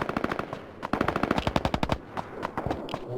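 Rapid bursts of automatic gunfire crackle in quick succession in a Ring of Elysium firefight, loud and continuous with short gaps.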